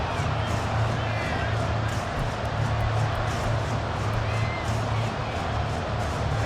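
Stadium crowd cheering in the Madden NFL 24 video game, a dense steady roar of fans with a low droning hum beneath, continuous and loud throughout.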